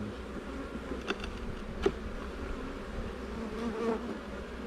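Honey bees buzz around an open hive, a steady soft hum of many insects with a few louder individual passes flying close by, no talking.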